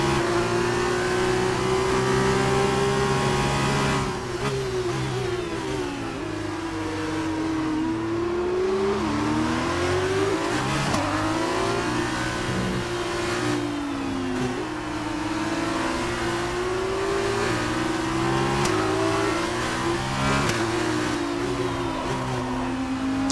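In the F1 2019 racing game, a race car engine howls at high revs, rising and dropping sharply through gear changes and braking, loud and continuous, with tyres locking up into a corner.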